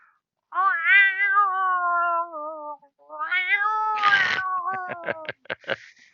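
A lioness's yowl plays as a sound effect during a tabletop roleplaying session: a long, wavering caterwaul, a short pause, then a second rising yowl that breaks into sharp rhythmic bursts, loud and alone.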